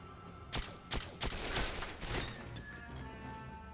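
A grenade blast and gunfire in 007: Quantum of Solace on PS2, with a burst of sharp rapid shots and a crashing impact, then fading game noise, moderately loud and without talk.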